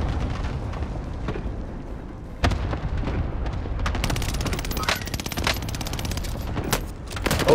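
Dense gunfire in Call of Duty: Modern Warfare, with rapid automatic bursts and sharp cracks stacking over a steady battlefield rumble and growing busier toward the end, loud and close throughout.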